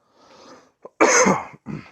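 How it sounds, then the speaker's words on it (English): A single harsh, loud cough close to the microphone, preceded by a faint breathy throat sound and followed by a softer rasp. "Cough is still there, but as you can tell, it's subsiding."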